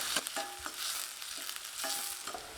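Onion, ginger and chopped garlic are sautéed in a pan for potato poori masala, with a steady sizzle broken by repeated scraping stirs of a spoon.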